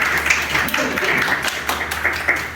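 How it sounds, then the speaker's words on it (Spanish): Scattered applause at a medical school debate on abortion, light clapping with sharp hand taps heard beneath a speaker's voice throughout the short stretch. "este aplauso hace eco a la decisión de los miembros del jurado"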